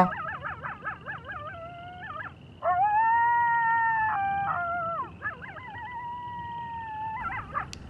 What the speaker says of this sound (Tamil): எங்கள் ஊரில் நாய்ங்கள்லாம் அப்படி தான் சத்தம் போட்டுட்ருக்கோம்